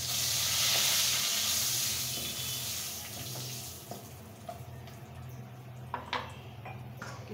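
Whole cinnamon, cloves, cardamom and bay leaves sizzling in hot oil, a loud hiss that fades over a few seconds into softer crackling with occasional pops and clinks.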